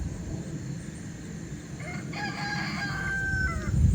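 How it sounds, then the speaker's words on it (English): A Brahma chicken crows once mid-clip, the call rising and holding over steady outdoor background noise, with no talking. "So I think the noisiness I'm hearing is one of the Brahmas"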